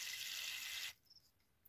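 Water pours steadily from a tap or small container into a tarantula's water dish, a close, bright splashing rush for just under a second that stops abruptly, followed by faint quiet handling noises.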